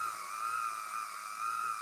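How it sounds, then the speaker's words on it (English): New, clean sandpaper pressed against the spinning rubber tires of a small drift-style car in humid conditions, giving a steady, continuous high-pitched whine that holds level and fairly loud throughout, with no one talking. "we're breaking out the sandpaper again"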